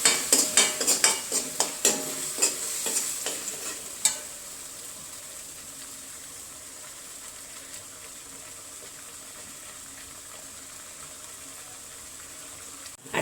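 Masala paste with tomato is stirred and sautéed in a pan, with a quick run of sharp spatula scrapes and clinks at the start, then a quiet steady sizzle alone.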